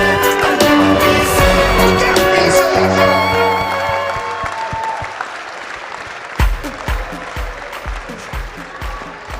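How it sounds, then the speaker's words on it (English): Applause from a graduation ceremony audience for MBA and EMBA graduates, loud and sustained over music at first, then thinning into scattered claps and a few louder bursts. "please, everyone stand up for a big applause for all of us."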